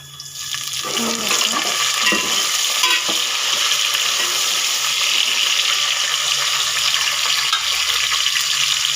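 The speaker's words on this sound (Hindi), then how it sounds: "तो प्याज फ्राई हो जाएं" Onions fry in a pan while a special dinner is cooked, giving a steady, dense sizzle that rises within the first second and then holds loud and even, with faint clinks of stirring underneath and no talking.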